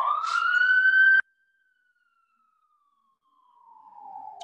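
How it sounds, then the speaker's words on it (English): A siren wails loudly then cuts off abruptly, leaving a faint fading tone before a distant siren swells back in. "we'll wait for the siren to go by"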